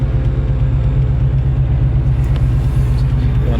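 A car engine, heard from inside the cabin with the windows rolled up, gives off a steady low rumble at idle or light throttle, loud and close, with no talking.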